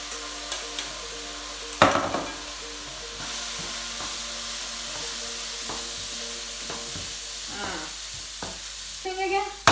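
Rice stir-fried in a hot wok for chaofan, a steady sizzle and frying hiss with repeated scraping stirs and occasional sharp clanks, close and fairly loud throughout.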